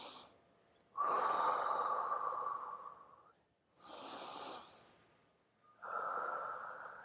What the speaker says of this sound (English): So just breathing.